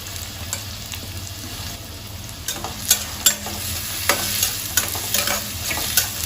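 Chopped onion with green chilies sautés in a pan, a constant low sizzle punctuated by several loud scraping stirs in the second half, close by with no speech.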